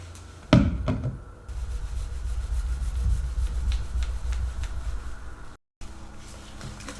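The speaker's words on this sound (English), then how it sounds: "If I could scrape off majority of it with this" Residue left from a DIY sunroof delete being scraped off a car roof, a continuous close rubbing scrape after a sharp knock at the start, with a brief cut near the end.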